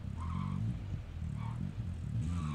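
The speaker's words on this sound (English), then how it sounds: "I'm not getting in that loud-ass truck" A truck engine in Call of Duty drones loud and low with a steady rumbling idle and revving, continuous throughout, while people talk over it.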